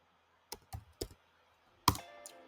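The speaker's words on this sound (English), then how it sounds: "Let me type it in uppercase." A computer keyboard clicks in a quiet room: three quick separate keystrokes, a pause, then one sharper louder press, close and crisp with no talk.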